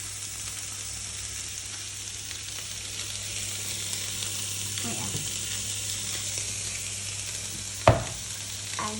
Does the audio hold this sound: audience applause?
no